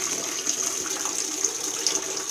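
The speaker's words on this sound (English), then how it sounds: "my tub is still filling up with water and the solution" A bathtub fills with running water mixed with a cleaning solution, a steady close gushing from the tap with a bright hiss that continues unbroken, and no one speaks.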